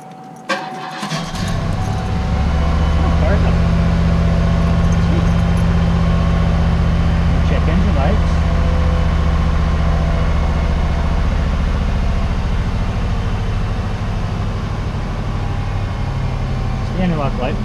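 A 1991 Cadillac DeVille engine cranks, catches and settles into a steady, loud idle that runs on for the rest of the stretch, with faint jingling near the start.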